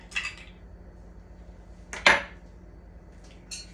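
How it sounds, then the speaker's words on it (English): Ice cubes dropped into an Aruba slammer cocktail glass, giving a few separate bright clinks: one near the start, a louder one midway and a softer one at the end, with quiet room tone between. "I am now going to add some more ice"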